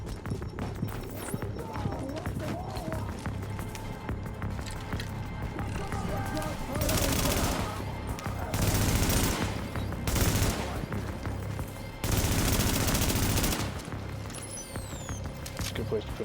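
A turret in a survival video game fires repeated rapid bursts of gunfire, loud and close, in clusters separated by brief lulls, over continuous background game noise.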